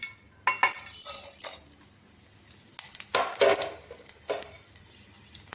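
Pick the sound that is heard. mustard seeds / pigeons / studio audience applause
mustard seeds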